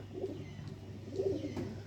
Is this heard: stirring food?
no